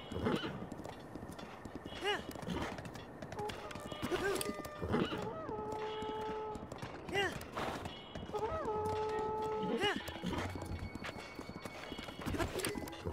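A horse in Zelda: Breath of the Wild gallops with rapid clip-clop hoofbeats and gives several whinnies, while someone talks over the game sounds throughout.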